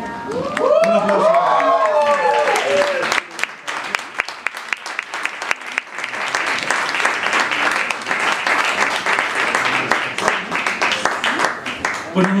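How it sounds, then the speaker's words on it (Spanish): A concert audience at Foro del Tejedor applauds the musicians, dense clapping and some cheering that rises after an opening stretch of voice and music and carries on to the end. "Un aplauso."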